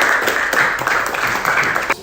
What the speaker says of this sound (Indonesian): Tepuk tangan dulu untuk teman Anda.